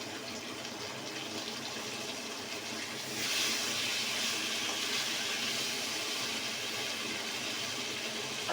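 Beans, carrot and capsicum frying for fried rice give a steady broadband sizzle and hiss with no talk, growing louder and brighter about three seconds in and holding that level to the end.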